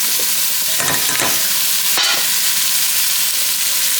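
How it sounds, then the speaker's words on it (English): Mixed vegetables hit a hot pan holding browned lamb shanks, setting off a loud, steady sizzle with a few scraping stirs and a sharp clatter partway through. "so we'll just add the mixed veg into the pan"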